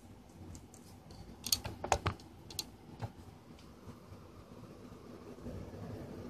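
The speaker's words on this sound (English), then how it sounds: "and you type in clipboard" Computer keyboard typing while setting up a Raspberry Pi as a remote desktop client: a short run of light, close key clicks, then a few scattered taps against a quiet background.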